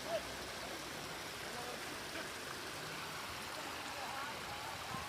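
Water flows steadily along an artificial river at a scenic spot in Qatar, a soft, continuous rushing wash heard from nearby, even in level and without talk.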